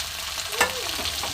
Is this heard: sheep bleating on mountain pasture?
no